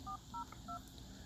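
Three short dual-pitch keypad tones from a Samsung phone, dialed in quick even succession while adding a three-way call, sounding close and clear over faint background hiss.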